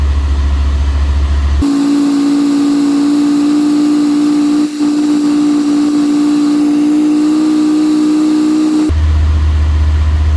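Mercedes W124 400E V8 engine held at raised RPM, a loud, steady, close hum with a strong tone that holds level for several seconds, bracketed by lower idling rumble at start and end.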